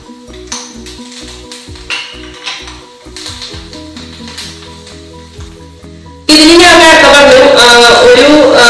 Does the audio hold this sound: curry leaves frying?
yes